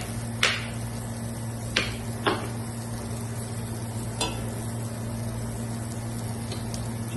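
Onions fry for kabsa in a pan with a steady low sizzle, broken by a few sharp scraping clatters as a utensil stirs them against the metal.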